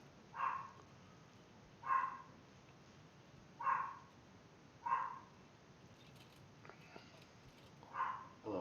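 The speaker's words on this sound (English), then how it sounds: "You can hear my dog?" A dog barks faintly in the background about once every second or two, five or six short muffled barks heard far off in a quiet room.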